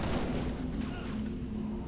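Gunfire from Magnum pistols in Halo: Reach. Heavy layered shots blur into a continuous loud rumble under a sustained drone.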